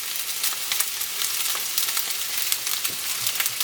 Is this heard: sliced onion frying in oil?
yes